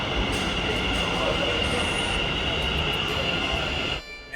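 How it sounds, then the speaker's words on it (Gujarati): A metro train pulls into Vastral Gam station in Ahmedabad, a steady loud rumble of wheels and carriage noise with a faint high squeal, cutting off abruptly near the end. "મેટ્રો આવે છે"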